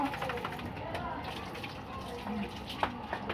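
Water is poured and splashes while a pet gets a bath with shampoo, a steady close gushing and trickling with a few sharper splashes and people talking faintly in the background.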